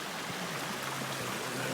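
Stover Creek flowing at a trail crossing on Springer Mountain in winter, a steady broadband rush of running water heard close and continuous, with no voices.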